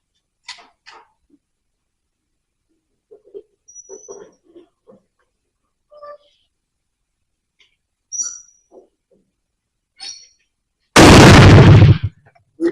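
An 1886 Mannlicher rifle fires a single very loud, close shot near the end, preceded by sparse quiet clicks and handling sounds in near silence.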